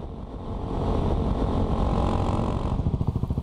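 A dirt bike engine runs steadily nearby on an enduro ride in Cambodia, a loud continuous drone that breaks into a pulsing, throbbing idle near the end.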